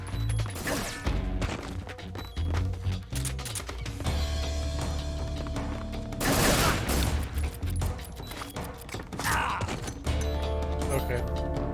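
Gunfire in Metal Gear Solid 3 comes in rapid bursts of shots mixed with crashes and impacts, loud and close, with a player talking over the shooting throughout.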